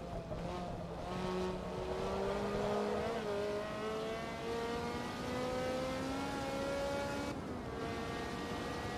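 Ferrari F430 racing car engine in Forza Motorsport 2, a loud, continuous rising and falling engine whine with gear-shift dips, steady throughout with no talk.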